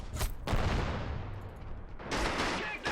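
Gunfire in the World War II strategy game Men of War: Assault Squad 2, set during the 1940 battle for Dinant, France: dense overlapping shots and bursts ring out loudly, with a brief lull before another heavy volley.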